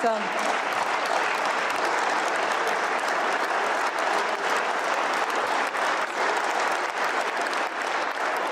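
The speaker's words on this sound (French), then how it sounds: "Vous étiez émue de cette ovation, de tous ces applaudissements, de cette chaleur?" Ovation in France's National Assembly, a long sustained wave of applause from the benches, dense and steady throughout with faint crowd murmur beneath and no clear speech.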